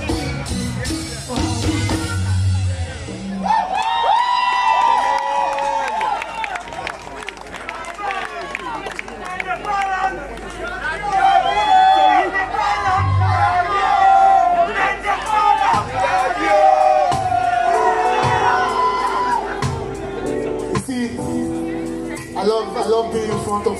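Crowd at a live concert at Serallio, a dense, sustained roar of cheering and shouting voices that swells and continues throughout, loud and close, with a performer's amplified voice cutting in.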